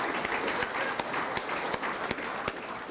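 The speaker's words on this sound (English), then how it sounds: "Let's give them a round of applause." Sustained audience applause at an evening gathering honoring achievers, a steady dense crowd of clapping hands with a few sharper individual claps standing out, fairly loud throughout.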